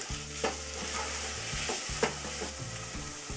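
Manchow vegetable soup sizzles in a pan while a spoon stirs it, with a steady frying hiss and a few soft scraping clinks.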